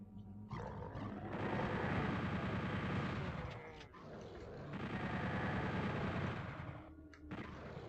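Sustained bursts of rapid-fire shooting and roaring blasts fill a Doom 64 firefight played on original console hardware, two long loud waves of gunfire separated by a brief lull.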